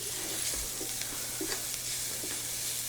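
Onions cooking in a pan give a continuous, close sizzle with soft stirring scrapes over a low steady hum.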